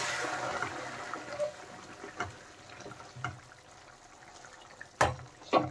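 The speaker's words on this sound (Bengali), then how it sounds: "জলটা আমি আগে থেকে গরম করে রেখেছিলাম, সেই জলটা দিয়ে দিলাম।" Hot water is poured into a pan of fried taro and potatoes, starting as a soft rushing splash that fades into faint trickling, with scattered light clinks and taps from the cookware.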